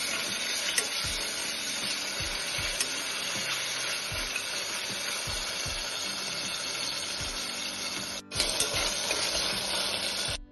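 Chopped tomatoes and onion with salt sauté in a pan for pea pulao, giving a steady, close sizzle with soft scraping stirs throughout and a brief break near the end.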